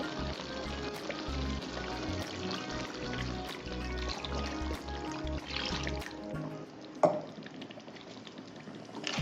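Water poured into a simmering tamarind fish curry (viraal meen kulambu) in a pot, with steady liquid splashing and bubbling throughout and a brief sharp clatter near the end, no talking.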